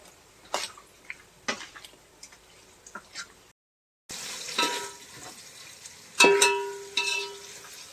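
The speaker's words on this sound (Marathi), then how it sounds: "आता आपण सगळं व्यवस्थित असं मिक्स करून घेऊया" A spoon scrapes and taps in a pan of chicken curry with onions, a scatter of sharp clinks and stirring strokes under a soft sizzle, quiet and close, broken by a brief silent gap.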